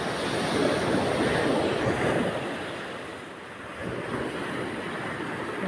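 Sea waves washing onto a beach, a continuous loud surf roar with gentle swells and no voices.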